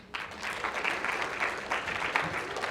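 A seated audience at a talk on ESG gives a round of applause for a speaker, an even, moderately distant wash of many clapping hands sustained for a few seconds.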